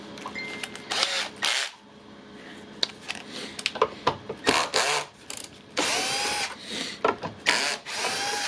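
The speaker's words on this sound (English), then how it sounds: "there's our drill" A power drill runs in short repeated bursts while screws are removed from a Makita radio, each burst loud and close with brief pauses between.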